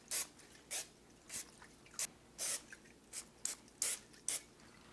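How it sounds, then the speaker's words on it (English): A non-dairy non-stick cooking spray sprayed onto a pan in a home kitchen while making dairy-free bread, heard as about nine short, close hissing bursts with brief gaps between them. "make sure that you spray your pan with a non-stick cooking spray"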